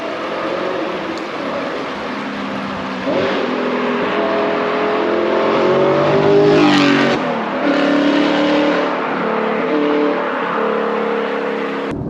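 An Audi R8 with a V8 engine and manual gearbox driving fast on a rough road near the national speed limit, its engine droning loud and steady throughout, with a rising rev sweep and a gear change around the middle.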